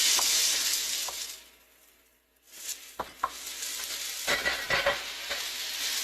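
Vegetables stir-fry in a hot pan with a loud, steady sizzle that briefly dies down, then returns alongside clattering stirring and scraping strokes close by.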